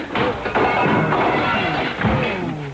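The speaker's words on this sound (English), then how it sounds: "Keep out of the way of that falling glass." Glass smashes and crashes down as an old-time radio sound effect in a radio drama, a dense, loud burst of breaking and tumbling shards lasting nearly three seconds with a couple of heavier thuds, no talk.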